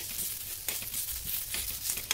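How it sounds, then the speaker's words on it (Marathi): Eggplant slices roast in a little oil on a hot griddle over medium heat, giving a continuous hissing sizzle with faint crackles throughout; no talking. "त्याच तव्यावरती आपण हे काप ठेवून घेतलेले आहेत."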